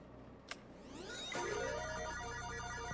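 A phone in the Fortnite Creative Tokyo Escape puzzle map rings, a bright electronic ringtone rising after a short click and then sounding steadily and fairly loud over faint game background, with no talk.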